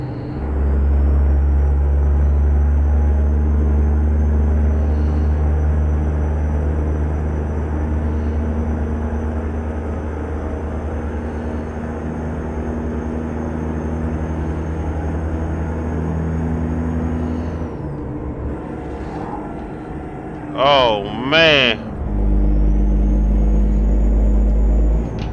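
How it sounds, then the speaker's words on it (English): A simulated heavy truck engine in American Truck Simulator drones loudly and steadily at a low pitch for most of the clip. It drops away near the end, where a brief two-part horn-like blare and a shift to a deeper rumble follow. "Listen to that truck, man."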